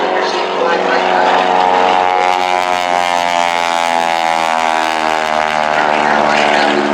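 A propeller aircraft flies at the Duluth Air & Aviation Expo air show, its loud, steady engine drone holding throughout while the harmonic pitch slowly slides downward as it passes.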